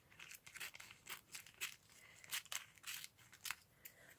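Scissors snip through card and acetate in a papercraft session, a quick run of about a dozen crisp, close cuts at an uneven rhythm, with faint paper rustling between them.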